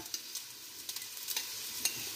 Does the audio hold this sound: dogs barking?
no